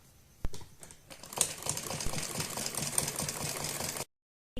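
A sewing machine stitches along the edge of a baby frock in a steady, rapid run of mechanical clatter lasting several seconds, close by and continuous, then stops abruptly.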